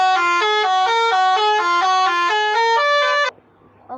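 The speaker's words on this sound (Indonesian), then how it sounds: "Kita ganti dengan telolet yang baru" A bus's telolet musical air horn, a replacement unit, plays a loud, close, rapid repeating melody of bright stepped tones for about three seconds, then cuts off into near silence.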